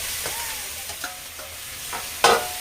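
Home-raised country chicken pieces being stir-fried with onions in a pan, a steady sizzle with intermittent scraping stirs and one louder clatter near the end, without talking.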